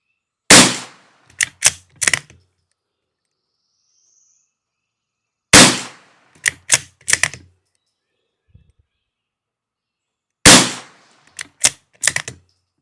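A Savage Mk II FV-SR rifle fires at an outdoor range in three groups of sharp, loud cracks a few seconds apart, each group of about four quick shots, with silence between.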